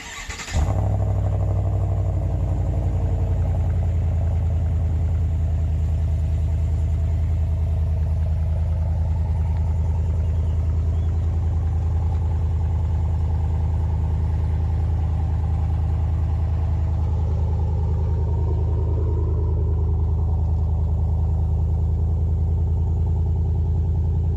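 A pickup truck with a 6.2-liter engine fires up with a short burst, then settles into a loud, steady, deep exhaust rumble at idle that holds close and unbroken for the rest of the clip.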